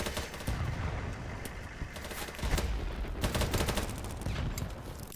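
Rapid automatic gunfire in the shooter game Battlebit, bursts of sharp cracks rattling in quick succession over several seconds, some shots close and punchy, others more distant, with no speech.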